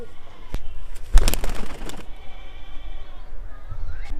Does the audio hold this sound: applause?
no